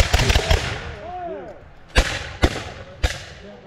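Flintlock muskets at a Revolutionary War re-enactment: a ragged volley of loud cracks at the start, then three separate sharp shots about half a second apart. Voices are heard between them.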